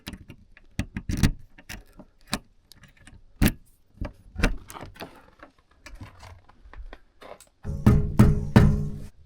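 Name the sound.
keys jangling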